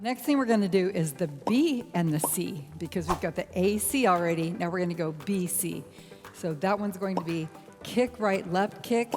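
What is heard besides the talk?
No everyday noise stands out behind the speech.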